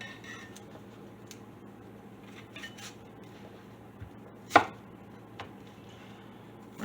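A knife chops through half an onion on a cutting board, a handful of soft scattered cuts with one sharper, louder knock near the end, fairly close and with no talking.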